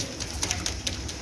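Pigeons of an old Sialkoti breed kept in a loft coo softly and steadily, with faint wing or perch noises over a continuous low background hum.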